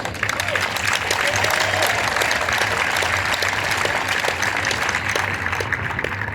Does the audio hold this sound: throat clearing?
no